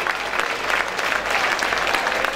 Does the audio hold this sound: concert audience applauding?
yes